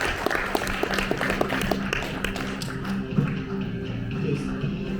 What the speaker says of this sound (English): can we give a round of applause to the panelists